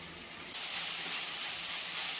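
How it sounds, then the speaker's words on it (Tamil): Onion, green chilli and coriander leaves dropped into hot oil for kothu kari vadai, a sudden loud hiss of sizzling that stays steady and close to the end. "வெங்காயம், மிளகா, இந்த மல்லிச்செடி எல்லாம் போட்டு இதில் வதக்கணும்."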